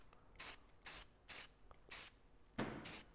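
Short aerosol bursts spray silver paint onto Toyota 4Runner trim, five or six loud hissing blasts of roughly half a second each, evenly spaced with brief pauses between.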